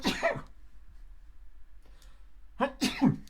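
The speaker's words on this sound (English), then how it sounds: "Oh, I'm going to sneeze." A person lets out a sneeze at the very start, then after a quiet pause a second, louder sneeze bursts out near the end, both close and sharp.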